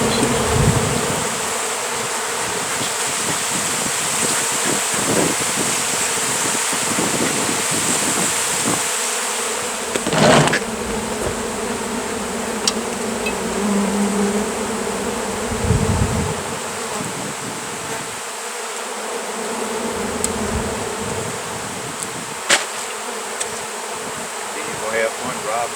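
Dense swarm of honeybees droning steadily and close around large beehives being removed, a continuous loud hum with occasional brief bumps and knocks.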